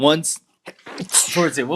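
A sneeze bursts out among people chatting on a morning sports talk show, one sharp explosive breath set between stretches of speech, close and loud.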